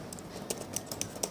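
Quick, light clicks of typing on a Surface Go 2 keyboard, a handful of close, crisp keystrokes in an irregular rhythm over a quiet room.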